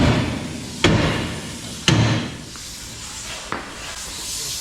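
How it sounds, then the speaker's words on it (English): Three sharp metallic hammer blows on a steering knuckle of a 1967 Shelby GT500 Mustang ring out at uneven intervals, close and loud, over a steady hiss of background noise. "When you hit it with a hammer like that, it mushrooms the threads"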